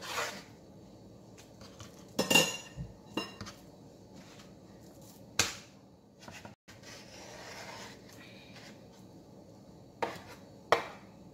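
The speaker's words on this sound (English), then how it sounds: "So we're gonna cut the fish in the middle" A knife cuts a fish through the middle in a home kitchen, giving a few sharp, close cutting knocks and scrapes on a board with quieter handling noise in between and no talking.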